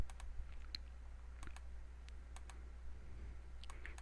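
Computer keyboard keys pressed for a copy-paste shortcut during graphic design work, giving a few sparse, light clicks at close range over a quiet background with no talking.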